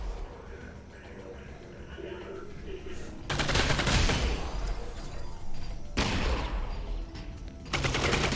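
Bursts of gunfire in Half-Life: Alyx erupt in loud, dense volleys with short breaks between them, following a quieter stretch at the start.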